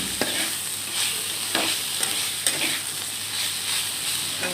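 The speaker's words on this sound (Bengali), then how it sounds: "সজনা শাক ভাজা" Drumstick leaves frying with dry coconut and poppy seeds in a pan: continuous loud sizzling and crackling with a few soft stirring knocks, no voices.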